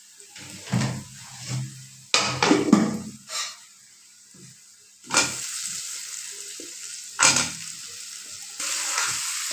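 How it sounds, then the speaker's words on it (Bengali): Boiled mesta potatoes frying and being stirred with spices in a pan for a Bengali hilsa fish curry, with bursts of sizzling and scraping strokes at irregular intervals, close and fairly loud. "এই পর্যায়ে আমি দিয়ে দেব কেটে ধুয়ে সিদ্ধ করে রাখা মেস্তা আলুগুলোকে।"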